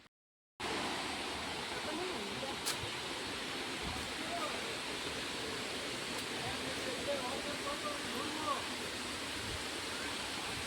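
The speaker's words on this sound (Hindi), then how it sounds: "यहाँ हम लोग वाटरफॉल के पास जा रहे हैं" A waterfall in Meghalaya roars as a steady, broadband rush of falling water that fills the whole span after a brief silent start, constant and fairly loud with no talk over it.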